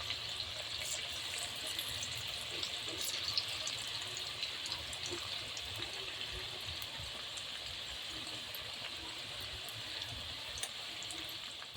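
Chicken pakora frying in hot oil in a home kitchen, a continuous soft bubbling hiss with faint crackles and occasional pops, low and steady throughout without speech.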